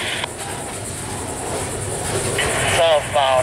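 A heavy Florida East Coast freight train rolls past with a continuous low rumble and rail clatter, building slightly louder toward the end as a brief voice cuts in.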